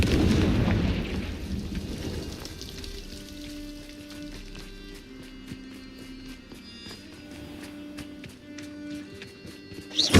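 The Confringo fire-blast spell in the Hogwarts Legacy video game: a loud burst of crackling blast noise that settles into a sustained fiery rumble with a steady tonal hum beneath, then sharp crackles near the end.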